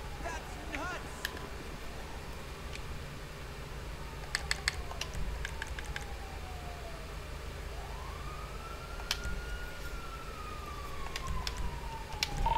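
A video game ambulance siren wails faintly in the distance, rising and falling in slow sweeps over a low background hum, with a few sharp keyboard clicks scattered through.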